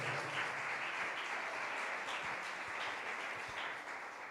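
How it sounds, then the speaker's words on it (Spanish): Congregation at a Spanish-language Sunday church service claps in praise, a soft, steady wash of applause heard faintly and at a distance for several seconds. "Dele palmas al Señor de la gloria."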